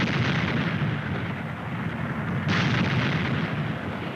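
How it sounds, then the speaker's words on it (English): A volcanic eruption explosion roars as a dense, continuous rumble, loud and heavy throughout, swelling slightly midway with no voices. "an explosion considerably larger than this one recorded in 1927."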